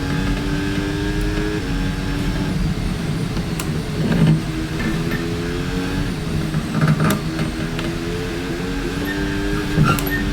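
A Formula 1 racing car engine in an F1 video game, driving a Cadillac at the Miami race in the rain, drones steadily with slight pitch shifts and a few brief bumps, with no speech.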